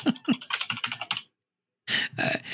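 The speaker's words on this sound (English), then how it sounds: "You got to leave the mad typing sound effects in." Rapid computer keyboard typing in quick bursts, with a clattering stretch of keystrokes, a short silent pause, then two more dense flurries of clicks, close and fairly loud with no voices.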